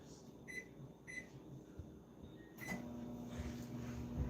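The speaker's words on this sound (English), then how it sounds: "So I'm going to put it in my microwave for about 45 seconds." A microwave oven warms milk for sourdough in a home kitchen: a few faint beeps from the keypad as it is set, then a low steady hum as it runs, quiet and close.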